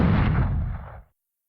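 Video game shotgun firing sound effect built from layered recordings, a single heavy, booming blast whose low rumbling tail fades out after about a second.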